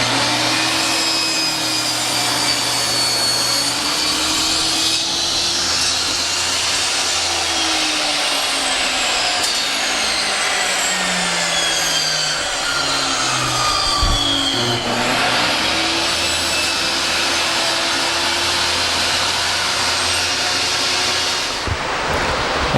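A saw rips a one-inch strip lengthwise from a board of pallet wood, cutting steadily and loud for over twenty seconds. The tone shifts slowly as the blade moves along the grain and briefly drops out near the end.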